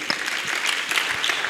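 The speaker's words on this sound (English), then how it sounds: "Let's applaud him." A lecture audience bursts into applause, a dense close clatter of many hands clapping steadily for about a second and a half, with no talk over it.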